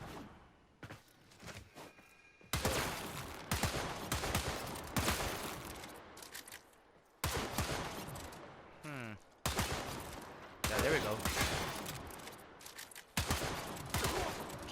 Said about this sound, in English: this weapon has quite the recoil if you keep firing